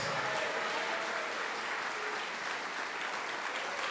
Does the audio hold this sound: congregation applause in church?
yes